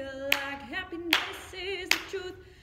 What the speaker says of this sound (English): So you're just clapping.